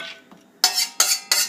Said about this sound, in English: get this all stirred together nicely